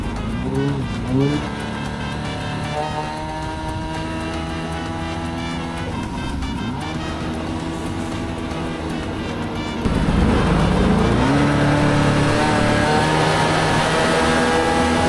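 A car engine roars and revs steadily, rising in pitch, then jumps louder near the end as the throttle opens up.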